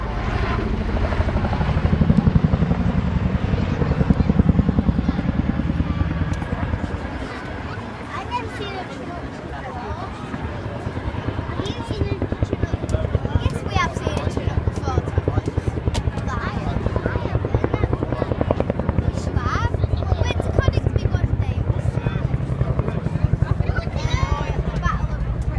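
A Chinook helicopter flying at an armed forces day air display in Cleethorpes, its loud continuous rotor thump and engine roar filling the whole stretch, with crowd murmur and talk beneath.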